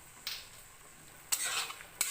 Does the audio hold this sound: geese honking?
no